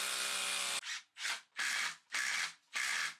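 A power tool drives concrete screws through a CLS timber base plate into a concrete floor: one long whirring run followed by four short, evenly spaced bursts, close and clear with no talking.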